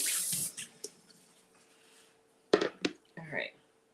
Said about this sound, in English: let me just rinse this out.